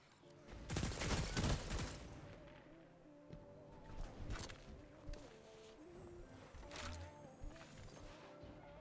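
Bursts of pulse rifle fire in a video game crack out loud at the start, then sparser shots and clatter follow over a steady game soundtrack.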